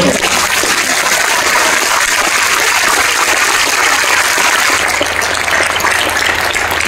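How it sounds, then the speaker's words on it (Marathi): A large audience claps loudly and steadily for young volunteers at a Shivrajyabhishek Day ceremony in Thane, the dense applause running unbroken for about seven seconds. "सगळ्या ठाण्याला ऐकू जाईल एवढ्या टाळ्यांचा गजर आहे"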